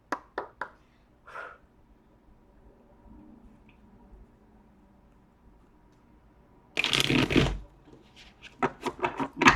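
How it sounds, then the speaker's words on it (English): A tarot deck being shuffled by hand: a few quick card taps and flicks up close, then a near-silent pause, then a dense burst of riffling followed by sharper snaps as the cards settle. "I'm hearing just 3 shuffles."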